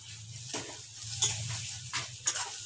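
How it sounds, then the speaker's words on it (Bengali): Maggi noodles frying with egg and vegetables in a home pan, with a low crackling sizzle and several distinct spatula scrapes and taps as they are stirred. "আমি একটু নাড়িয়ে দিই"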